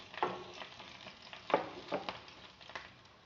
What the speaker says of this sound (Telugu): వెల్లుల్లి రెబ్బలు, చింతపండు. ఇప్పుడు వీటన్నిటిని 1 నిమిషం పాటు ఫ్రై చేయాలండి.